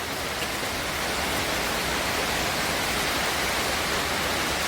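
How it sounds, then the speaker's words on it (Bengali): Steady, dense rain pours down over a village, a loud continuous hiss filling the whole clip with no talk. "বৃষ্টির জন্য ঘর থেকে বেরোতে পারছি না"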